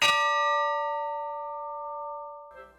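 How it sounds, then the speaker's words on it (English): A ship's bell from the cutter Bear, mounted on a ceiling, struck once indoors; a bright, loud clang rings out with long sustained tones that slowly fade, followed by a faint knock near the end. "here, mounted on the ceiling, we actually have the bell from that cutter that we ring to start all of our formal occasions."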